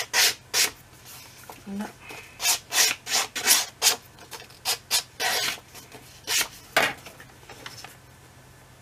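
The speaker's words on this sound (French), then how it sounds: "Je vais juste limer un petit peu." A hand file rasps in quick, close strokes during scrapbook album crafting, with roughly eighteen scraping passes in uneven bursts and a brief spoken word midway.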